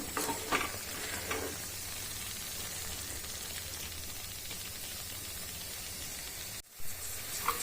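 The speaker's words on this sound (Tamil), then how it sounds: "இப்போ இதை கலந்து விட்டுடலாம் கலந்து விட்டுட்டு ஒரு ரெண்டு நிமிஷம் அப்படியே வச்சிடலாம் மீடியம் ஃப்ளேம்லேயே இருக்கட்டும்" Tomato thokku sizzles in a pan on a medium flame while being stirred, giving a steady close frying hiss with occasional scraping stir sounds and a brief drop near the end.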